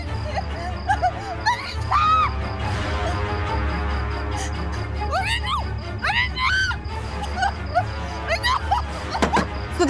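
A woman in a Hindi TV crime drama screams in repeated sharp, rising cries over a steady low hum, with scattered voices and commotion around her.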